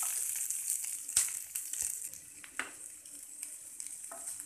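Large-cut onion and tomato pieces fry in a pan for a soya chunks masala gravy curry, giving a soft, steady sizzle broken by a few sharp stirring scrapes, close and fairly quiet with no talking.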